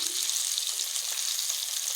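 Rava-coated fish fries in hot oil, Mangalore style, giving a steady close hiss and crackle that stays even throughout with no voices.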